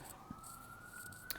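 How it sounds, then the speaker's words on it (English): An emergency vehicle siren sounds faint and far off as one steady, slowly rising tone held through the moment, under quiet room noise with a soft tap near the end. "right now, I'm choosing not to be distracted by the siren."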